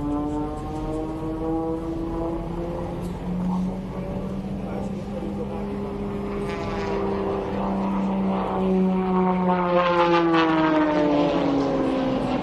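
Aerobatic airplane at an air show, its engine droning and pitch sweeping down and back up as it passes, loud and sustained, with announcer-like voices faintly beneath.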